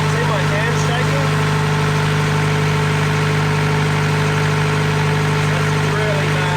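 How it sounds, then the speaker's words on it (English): A boat engine runs steadily at about 1500 rpm, a loud, even droning hum with vibration and no change in pitch. "We're doing about 1500 revs at the moment."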